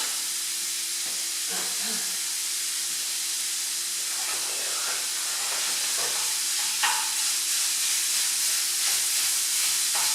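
500 grams of mince browning in a pan gives a constant hissing sizzle, with intermittent scraping and stirring clatter over ten seconds.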